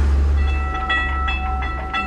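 A cartoon train approaches a railroad crossing: a loud, sustained tonal horn rings over a deep rumbling engine, with a few rhythmic pulses as it draws near.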